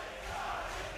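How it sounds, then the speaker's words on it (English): The Kiev esports audience at a StarLadder i-League Invitational Dota 2 match, NaVi versus VG Reborn, gives off a steady wash of crowd cheering and roar that stays even and fairly distant throughout. "The crowd on their feet"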